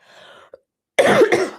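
A short throaty sound, a brief pause, then two harsh coughs close to the mic.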